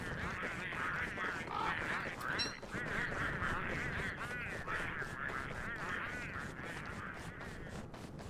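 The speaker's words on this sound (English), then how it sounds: "Hey, penguins." A flock of penguins in the Don't Starve video game squawks and honks continuously, overlapping harsh nasal calls at close range forming a busy, unbroken chorus.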